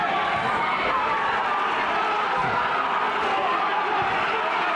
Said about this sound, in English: Crowd making a lot of noise